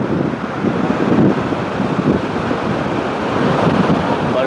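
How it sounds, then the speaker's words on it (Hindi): Ocean waves roll onto a beach in Da Nang, Vietnam, during the rainy season, heard as a loud, continuous roar of surf mixed with heavy wind buffeting the microphone. "क्या गजब की लहरें उठ रही हैं।"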